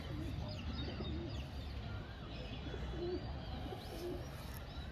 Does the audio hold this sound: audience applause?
no